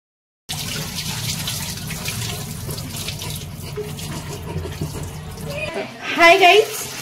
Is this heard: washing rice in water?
yes